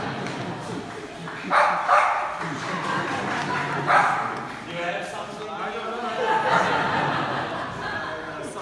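A service dog barks and yips several times during what sounds like a medal award ceremony. The barks come in short bursts over people talking and some light laughter.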